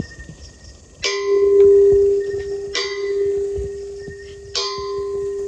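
A church bell tolls three times at steady intervals, each strike ringing out loud and then humming on in a long, sustained tone.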